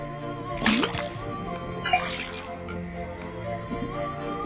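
In the Detective Grimoire video game, a faucet pours liquid into a cauldron, heard as a bubbling, gurgling water sound with a rising glug, set against a sustained tonal music bed.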